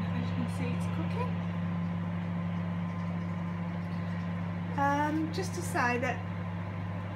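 A white Sharp R664WM 20-litre microwave with grill runs with a steady low electrical hum that continues throughout. A person speaks briefly over it near the end.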